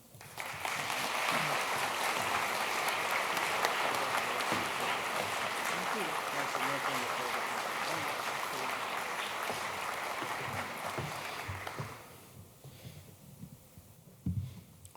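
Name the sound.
audience applause welcoming lecturer to the podium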